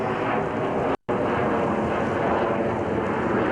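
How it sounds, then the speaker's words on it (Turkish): A steady, loud roar of a passing airplane dominates, broad and continuous, with a brief dropout near the start. "Uçak geçmekte."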